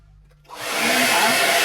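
A hair dryer switches on after a brief quiet moment and ramps up into a loud, steady, close-up whooshing blow that holds to the end.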